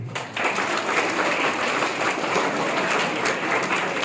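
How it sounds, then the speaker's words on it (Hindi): Students at an Indian Army and NCC gathering on wildlife and the environment applaud, a steady, dense clapping from a sizable group that carries at an even level for about four seconds. "ताली बजाओ इनके लिए।"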